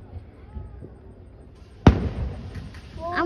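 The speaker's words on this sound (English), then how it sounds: "This is me right now filming the fireworks." A single sharp Fourth of July firework bang bursts out partway through, followed by crackling and faint sparkle noise, with quieter ambient sound before it.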